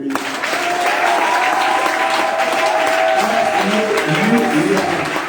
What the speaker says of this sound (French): Est-ce qu'on peut acclamer pour lui?